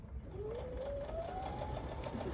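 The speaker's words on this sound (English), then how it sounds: "I just sew right on that marked line" A sewing machine stitches steadily along a marked line while a quilt sampler is pieced, a quiet continuous whir with a rising hum that runs alone through the short stretch.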